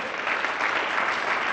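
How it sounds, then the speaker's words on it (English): A school district staff audience at an inservice day gives a short, even round of applause, a continuous wash of clapping with no break. "let's do a round of applause for Wayland"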